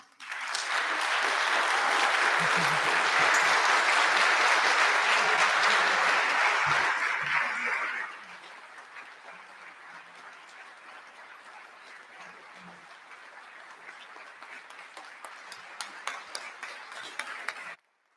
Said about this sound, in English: audience, would you please applaud for them?